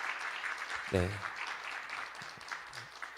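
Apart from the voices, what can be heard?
audience applause at a graduation ceremony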